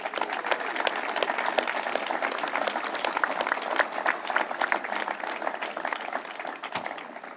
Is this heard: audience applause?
yes